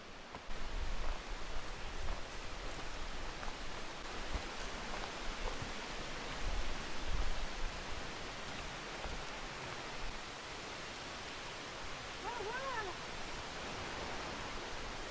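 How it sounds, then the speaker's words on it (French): A waterfall reached on a forest hike roars as a steady broadband rush, continuous and fairly near, with no pauses for about fifteen seconds. "On arrive près de la cascade."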